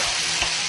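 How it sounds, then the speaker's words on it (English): Soy sauce hisses and sizzles as it hits a hot pan to deglaze a ramen stir-fry, a loud, steady broadband sizzle with a slight swell partway through, heard alone. "So we're going to deglaze it with a little bit of soy sauce."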